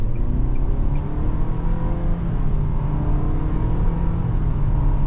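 A 2023 Nissan Sentra SR accelerates hard with its CVT, a loud steady engine drone rising in pitch and holding close and continuous with no voices.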